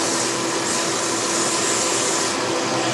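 A shop vac runs steadily and loud, sucking up debris left after milling a PCB on a Bantam Tools desktop mill, one continuous whooshing roar with no talk.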